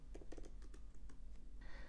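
Quiet keystrokes on a computer keyboard as a command is entered in a terminal, a short run of soft clicks with brief pauses, alone without any voice.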